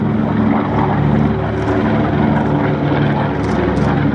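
A B-25 medium bomber flies by on its propeller engines, producing a loud, continuous droning roar that holds steady throughout.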